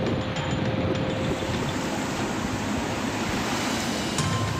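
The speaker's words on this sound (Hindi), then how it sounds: "कहीं पुल के ऊपर से पानी बह रहा है" Flood water rushes over a bridge after heavy rain, a steady broadband roar of flowing water that is continuous and fairly distant, with no voices.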